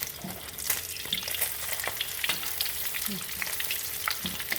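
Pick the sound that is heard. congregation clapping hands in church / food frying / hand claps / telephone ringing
food frying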